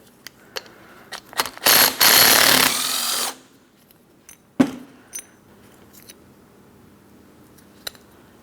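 A 13mm ratchet working a tensioner pulley bolt on a 2003-2007 Cadillac CTS 3.6L V6: scattered clicks, then a burst of rapid ratcheting, a sharp metallic knock and a few sparse ticks.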